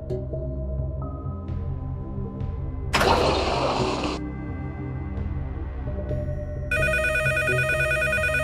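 A telephone rings with a bright, steady electronic trill that starts late and runs to the end, loud over a low droning ambience, after an earlier burst of noise.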